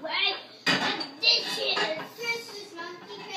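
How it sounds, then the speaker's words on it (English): Children putting away household dishes: clattering plates and dishes knock together in several sharp bursts at irregular intervals, close by, with kids' voices talking over the clinking. "it's Cohen and Brody's job to put away the dishes"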